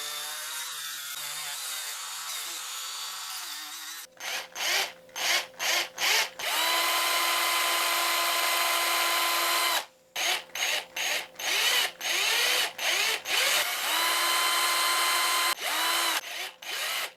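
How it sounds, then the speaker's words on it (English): A power drill bores a hole for the belly hook eye in a hand-carved balsa topwater lure, high whining bursts starting and stopping repeatedly, with short pauses between runs, close and loud. "I've got my spot to drill the hole for the belly hook eye."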